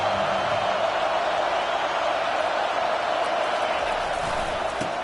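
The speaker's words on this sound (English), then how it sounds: "Listen to this crowd just shaking the girders of this place" Large stadium crowd at a football game roaring steadily and loudly throughout, a dense continuous wall of cheering meant to rattle the opposing offense and back up the home defense.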